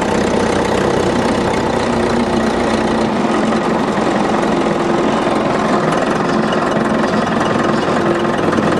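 A small all-wheel-drive tractor engine runs steadily at close range while pushing against a Dodge truck bumper, a loud continuous mid-pitched drone with no pauses or voices.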